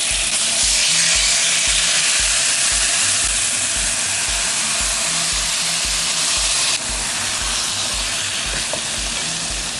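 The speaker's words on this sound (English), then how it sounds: "I'm going to throw the green onions in first real quick." Green onions, meat and mushrooms stir-fry in a hot pan, giving a loud, steady sizzle and hiss that runs throughout with no pause.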